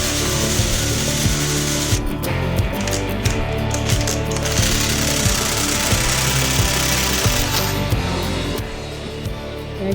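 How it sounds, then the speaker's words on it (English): An angle grinder cuts and grinds at a stuck, rounded-off bolt on a car cooling system, giving a loud, continuous metallic grinding and rattling with rough, uneven bursts and no talk. "can hear you hit it with the grinder"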